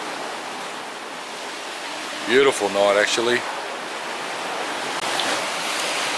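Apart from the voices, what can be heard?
waves lapping on the shore at night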